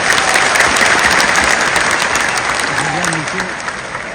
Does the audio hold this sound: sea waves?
no